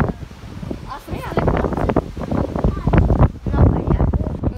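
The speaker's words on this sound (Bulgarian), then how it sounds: "Ма хладен вятър тук." Cold wind gusts across a wild beach at Obzor on the Black Sea, with heavy microphone buffeting throughout and people talking over it.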